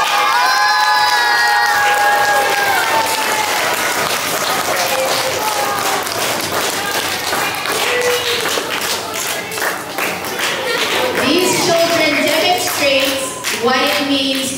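Children cheer, shout and clap at a school awards assembly, a loud, sustained crowd roar with whoops and scattered high voices rising and falling throughout.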